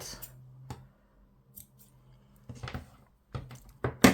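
Scissors snip through paper cut from a junk mail envelope in a few close, crisp clicks, spaced irregularly with quiet gaps between and a sharper final cut at the end.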